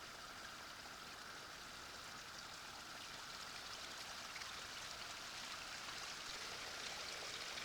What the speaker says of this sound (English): I can actually hear quite a lot of water running through the dam,